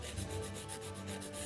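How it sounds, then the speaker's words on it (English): A nail file rubs back and forth across artificial nail tips in a steady, rapid scratching rhythm, faint and close, with no voices. "I always hold our tips when filing"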